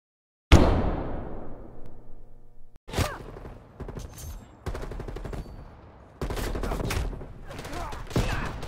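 Call of Duty Black Ops light machine gun fire: a loud opening burst that rings out, then repeated rapid automatic bursts with short gaps and some mechanical clatter.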